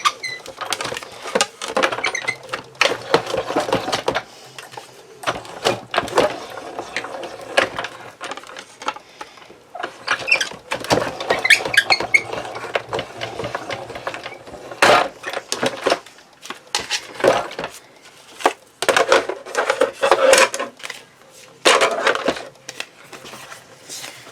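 A paper card being cranked through an embossing machine, a close, loud run of rapid grinding and crunching bursts with short pauses between passes, no talking.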